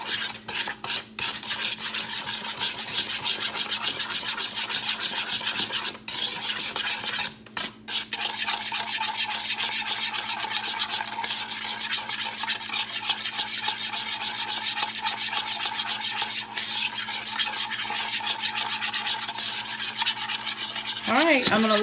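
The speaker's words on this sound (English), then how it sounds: "mix this all together." Soy sauce glaze being whisked together in a bowl, a steady run of scraping and clinking strokes of utensil against the dish, close and continuous with a brief pause partway.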